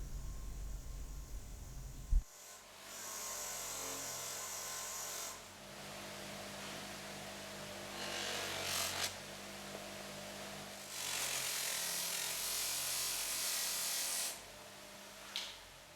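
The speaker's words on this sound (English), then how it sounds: "Use the grey compound and the sisal wheel to sharpen the top jaw teeth." A sisal buffing wheel loaded with grey compound hums steadily while sharpening the top jaw teeth of clenching tongs, with several longer passes of louder grinding rub against the wheel.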